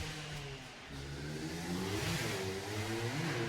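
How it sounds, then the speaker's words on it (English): Dirt bike engines revving and droning as the bikes pass at a distance, a rising and falling mid-pitched buzz that swells in the second half, fairly faint with no talking. "let the crazy dirt bike guys go"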